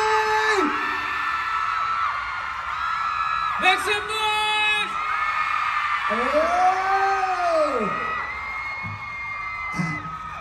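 A crowd at a press event in Siam Center, Bangkok, cheers and screams in several loud bursts between a host speaking into a microphone, with music playing underneath.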